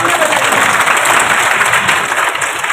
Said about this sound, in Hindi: उनकी जोरदार तालियां